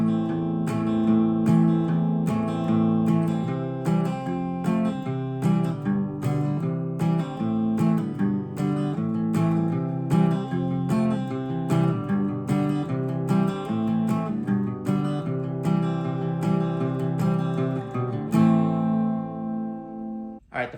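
Acoustic guitar plays the intro of a song, a steady strummed and picked pattern of chords repeating throughout, close and moderately quiet, ending on a ringing chord.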